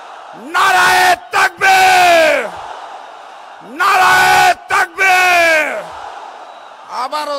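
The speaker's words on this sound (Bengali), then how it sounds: "স্লোগান ধরুন, নারায়ে তাকবীর" Rally crowd at a divisional gathering in Khulna chanting Naraye Takbir: a leader's amplified call answered by a loud massed roar, repeated twice in call-and-response bursts, booming and echoing over a loudspeaker.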